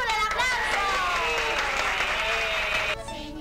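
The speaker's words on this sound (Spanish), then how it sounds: "el aplauso" Applause from children and adults at a gathering in Cuba, a dense steady wash of clapping with excited voices and chatter mixed in, dropping off near the end.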